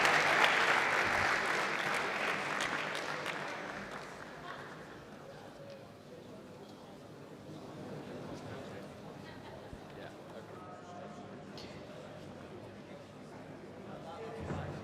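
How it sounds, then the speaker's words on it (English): Arena crowd at a grappling event applauding a defeated fighter as he is escorted off after an armbar, loud clapping and cheers at first that fade to a lighter patter and murmur, with a commentator talking over it. "Crowd are going to give a round of applause for Nastasa as he's escorted off."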